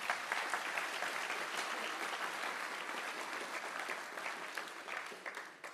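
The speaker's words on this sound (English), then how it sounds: "You can applaud." An audience applauds steadily at the International Physics Olympiad closing ceremony in France, with dense, even clapping that is moderately distant and continues throughout before thinning slightly at the end.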